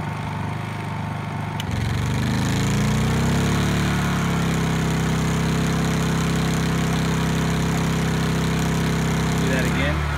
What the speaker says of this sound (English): you can watch a slight jump and hear the motor rev up when we engage the heat gun